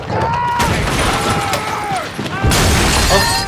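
Artillery and gunfire from a Band of Brothers war scene set at Carentan, heard as loud sustained explosions, crashes and bursts of shots throughout, with shouting voices mixed in.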